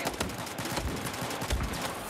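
Gunfire from the Battlefield 4 video game in Gun Master mode: several sharp shots crack out at irregular intervals over a dense, noisy background of battle sounds.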